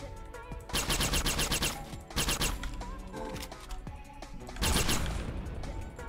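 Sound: explosion in a video game (Howler)

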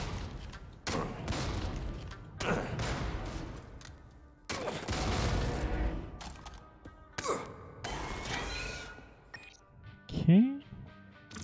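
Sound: shotgun firing in the video game Jupiter Hell

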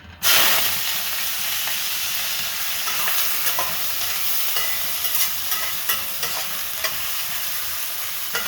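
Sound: chopped onions frying in hot oil

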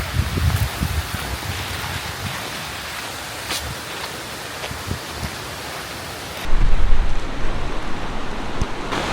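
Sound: heavy rain

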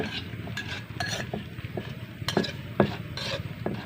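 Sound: mixing fried papaya salad ingredients with fish sauce

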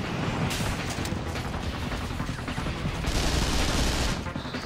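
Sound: gunfire from the video game Vanquish

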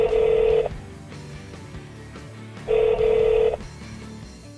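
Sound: Lexus Bluetooth phone system dialing and ringing

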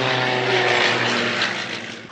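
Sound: aircraft flying in aerobatic show at aviation fair

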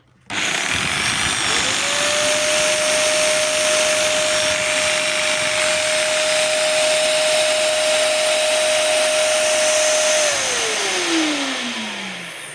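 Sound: Dnipro-M VCW-20SA construction vacuum cleaner running

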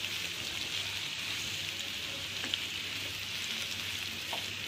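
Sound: mashed banana roasting in a pan

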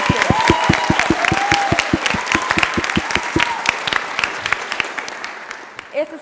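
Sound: audience applause

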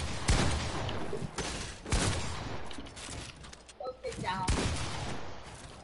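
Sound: gunshots in a box fighting video game

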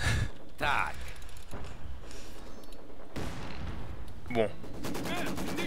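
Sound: gunfire in the video game Company of Heroes

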